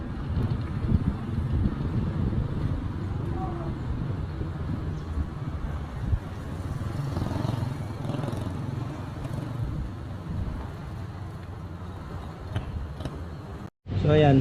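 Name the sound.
strong wind blowing on the SLEX TR4 site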